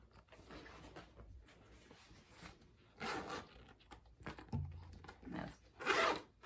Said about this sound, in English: Like they both zip fine,